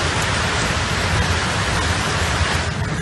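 Heavy rain pours down in France, a dense, loud and unbroken hiss of downpour with no pauses or other sounds.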